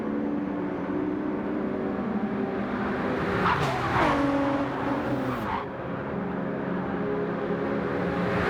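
Race cars in Gran Turismo 7 during a BTCC replica league race, with steady loud engine drone, a surge of revving and tire squeal midway as cars battle through a turn, then continuing engine noise.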